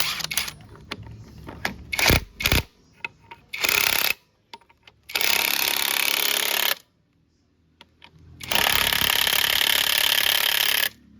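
A REAIM impact wrench loosens a bolt on a motorcycle in loud, close bursts of rapid hammering, several short stutters followed by two long sustained runs separated by near silence.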